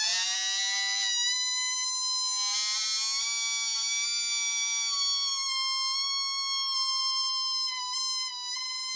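Air squealing out of the stretched neck of a rubber balloon, producing a continuous shrill, reedy whine that wavers slightly in pitch for several seconds, close and unaccompanied by speech.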